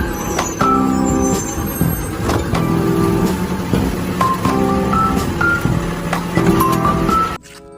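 A toy garbage truck gives off loud, repeating electronic beeps and tinny melodic tones in short bursts, running steadily for several seconds before cutting off abruptly.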